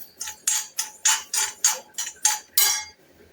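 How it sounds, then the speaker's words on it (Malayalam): Food being scraped from a pan into another vessel: a regular series of about nine bright metallic scrapes and clinks from a spoon against metal, close by and alone, with no talk. "ഞാനിപ്പോൾ ഇത് മറ്റൊരു പാത്രത്തിലേക്ക് മാറ്റി കൊടുക്കാം"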